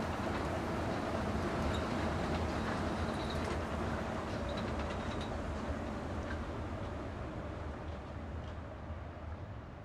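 A train rumbles past with a continuous broad roar and faint rattling, loud and steady before slowly easing off.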